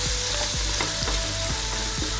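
Vegetable pulao ingredients being stirred in a pot, a steady sizzle with repeated scraping strokes of a spoon at a regular rhythm, close and moderately loud with no talking.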